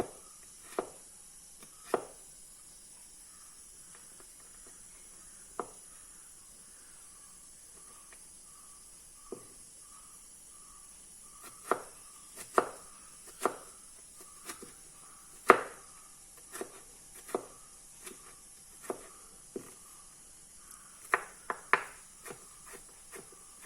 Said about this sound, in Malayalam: ഇനി നമുക്കിത് തോരൻ അരിയുന്ന മാതിരി ഇങ്ങനെ അരിയണം.